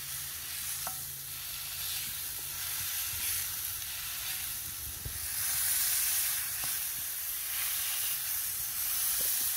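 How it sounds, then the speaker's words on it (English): Smash burger patties sizzle on the griddle of a Big Green Egg at around 300 degrees, a steady close hiss with occasional scraping and tapping from a spatula. "And then we take our spatula"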